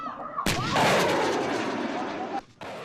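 An American-made Stinger missile launching, a sudden sharp loud blast followed by a sustained roaring whoosh that fades, then a brief drop and a lower tail.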